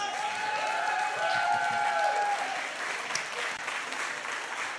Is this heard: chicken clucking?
no